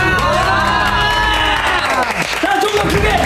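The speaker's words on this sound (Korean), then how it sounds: "박수를 한번 치고." A studio audience at a Korean variety show claps and cheers loudly while boy group members are introduced, with voices and whoops mixed in throughout.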